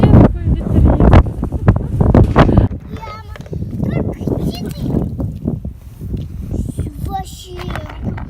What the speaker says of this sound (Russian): Вообще такой ветрец.